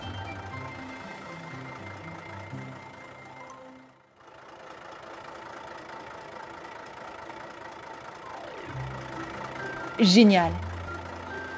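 A big cartoon truck's engine idles with a steady mechanical drone and repeating reversing beeps, cutting out briefly midway before resuming, with a short sharp rising sound near the end and a voice speaking once.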